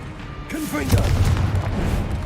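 A Confringo fire spell explodes in Hogwarts Legacy, a loud booming blast with rumbling low thuds, while a voice shouts over the start of it.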